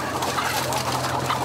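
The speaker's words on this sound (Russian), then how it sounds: "94 тысячи несушек ожидают своей участи за решеткой." A henhouse on a large poultry farm holds tens of thousands of laying hens. Their clucking forms a dense, continuous chorus over a steady low mechanical hum.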